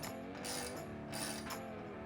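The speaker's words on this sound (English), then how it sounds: "You'll grab a 19mm socket and ratchet and tighten it the rest of the way." A ratchet with a 19mm socket clicks in short bursts as it tightens a bolt on a HISUN 200cc mini bike. The close, fast pawl clicking repeats over several strokes.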